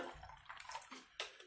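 Grapefruit soda is poured into a glass for a Paloma cocktail, making a brief, faint splashing and fizzing trickle with a couple of louder gushes.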